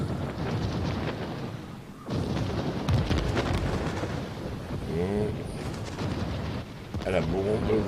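Bombs striking a Tier 6 Bayern battleship in World of Warships, a dense stretch of heavy booming explosions and rumbling impacts layered continuously, loud and close, with brief lulls between blasts.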